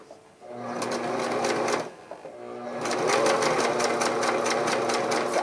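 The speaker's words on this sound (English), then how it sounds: "I inherited this sewing machine from my mom." A home sewing machine stitches fabric close up with a rapid mechanical whir and rhythmic needle clatter, running in two bursts separated by a brief pause.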